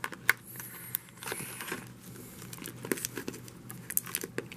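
Plastic wrap torn off a Yu-Gi-Oh! Circuit Break card box, close quiet crinkling with scattered sharp ripping snaps and rustles, no talking.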